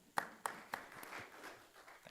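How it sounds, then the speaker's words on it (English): A few scattered, faint hand claps at a city council meeting, three or four sharp separate claps early on that trail off into quiet room tone, with no sustained applause. "Or we could applaud"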